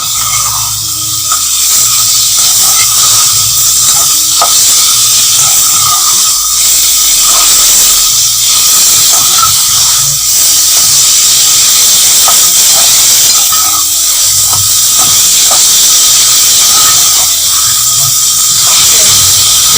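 Chopped tomatoes and onions hit a hot pan and set off a loud, continuous hissing sizzle that holds steady for the whole stretch, with faint clinks in the background and no talking.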